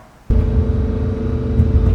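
A Lamborghini Huracan LP610-4 cruising with a sudden swell into a loud, steady, deep engine drone that holds evenly for the rest of the stretch, close and alone without any talking.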